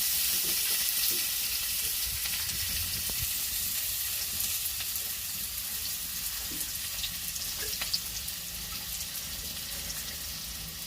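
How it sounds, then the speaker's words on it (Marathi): Onion frying in oil in a pan on a wood-fired stove while a crab curry is prepared, a steady close hissing sizzle throughout with occasional faint clicks of stirring. "आता आपला कांदा थोडासा भाजून झालाय तर आता आपण त्याच्यामध्ये तेल टाकून घेणार आहे"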